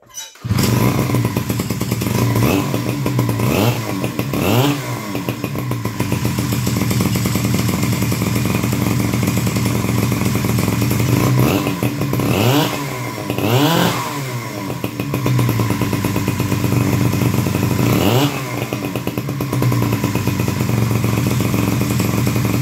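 An old Mercury Kiekhaefer two-cylinder chainsaw engine runs loud and close, holding a steady buzzing idle with several sharp revs rising and falling throughout.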